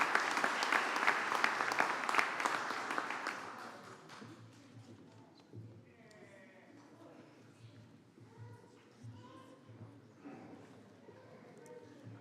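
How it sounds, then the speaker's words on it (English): An audience at a high school graduation ceremony applauds award recipients, the clapping loud and dense for about four seconds, then thinning to scattered claps under a quiet voice and room noise. "let's give these recipients another warm round of applause for their well-deserved efforts"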